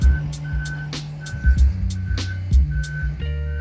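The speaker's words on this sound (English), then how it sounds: "The worst roadworks we've ever found ourselves in." Heavy trucks at a roadworks site, with insistent repeating reversing beeps over rumbling diesel engines and a brief hiss like an air brake, loud and close.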